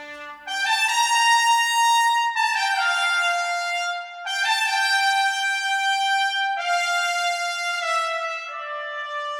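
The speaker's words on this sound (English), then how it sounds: "So I'll just show you a few bars of the trumpets." Trumpets play a few bars of a rising theme passage in a big, bold scoring style, sustained bright held notes stepping upward in long phrases with brief breaks between them, clear and prominent with no talking.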